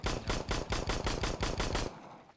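Automatic gunfire in the online shooter Phantom Forces, fired in a fast series of evenly spaced loud bursts that stop abruptly near the end.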